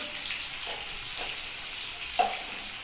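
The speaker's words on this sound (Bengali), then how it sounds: "আর এখানে আলুটা ভাজা হচ্ছে" Potatoes frying in oil in a pan with cumin tempering, turmeric and salt, giving a steady soft sizzle with a few faint stirring scrapes and one sharper clink near the end.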